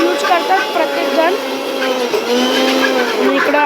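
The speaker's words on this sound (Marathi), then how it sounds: "इकडं अजून मिक्सर यांचा वाटण नाही होत।" A kitchen mixer grinder whirs loudly while grinding a spice paste with yogurt for chicken marinade, its motor pitch wavering steadily as the blades churn, with chatter and voices over it.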